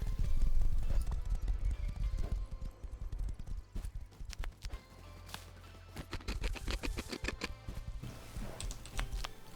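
Horse hooves clip-clopping in the Rust video game, a brisk irregular run of hoof clops over ground with a few heavier thuds, fairly quiet and steady throughout.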